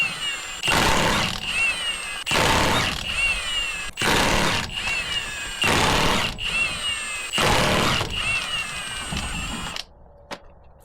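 A power tool tightens a bolt on the suspension of a Ford F150 Tremor pickup, with about six loud, evenly spaced bursts of whirring and rattling, then quiet with a single faint click.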